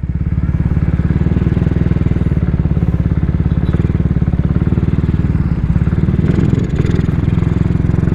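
A Yamaha Sniper Classic 135 motorcycle engine runs loud and close at a steady idle, a continuous rapid chugging throb that holds throughout with a slight dip near the end.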